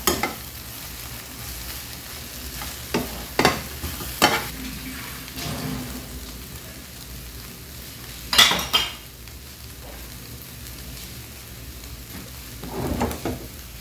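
Vegetables are stirred and fried in a pan, a soft continuous sizzle broken by several sharp scrapes and clinks of a utensil against the metal, close by, with no talking.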